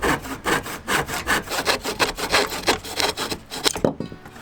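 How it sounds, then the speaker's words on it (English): A handsaw cutting through wood to make small squares, rapid rhythmic rasping back-and-forth strokes, close and loud, ending with a few slower final strokes. "all I needed was a handsaw and a little bit of sandpaper"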